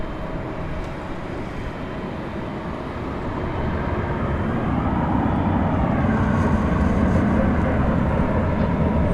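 An American Airlines Boeing 737-800 departing from Dallas Fort Worth Airport sends up a broad, loud jet roar that swells steadily as its engines spool up for takeoff.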